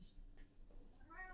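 A house cat meows once, a short, fairly faint cry near the end, over a low room rumble with no one talking.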